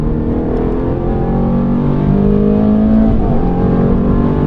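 A Ferrari accelerates hard around the Mondello Park circuit, its engine giving a loud, close, steady roar that climbs slightly in pitch as the power builds, with no voices over it.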